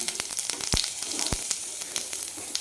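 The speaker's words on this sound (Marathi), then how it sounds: "कढईमध्ये आपण एक चमच्यापेक्षा पण आपण क कमी तेल टाकलेलं आहे थोडंसं जिरं टाकणार आहे" Cumin seeds sizzle in a little hot oil in a wok, a steady close crackling hiss broken by sharp pops and snaps, with no talking.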